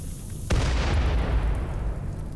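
Grenades going off in RimWorld: one sharp, loud blast strikes suddenly, then a deep rumbling roar lingers and slowly fades, with no voices.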